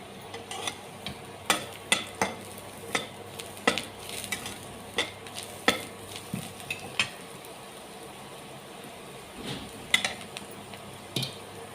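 Fried onions with half a spoon of turmeric powder are stirred in a pan for bread pakora filling, a spatula knocking and scraping in a steady rhythm over a faint, soft sizzle.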